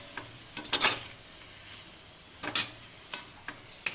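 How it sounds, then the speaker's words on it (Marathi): Amaranth greens and lentils sautéing in a pan make a soft sizzle under scattered spoon scrapes and taps, a few sharp strokes spread out over a quiet, close frying hiss. "सगळी छान अशी अशा प्रकारे चांगली परतून घेऊयात"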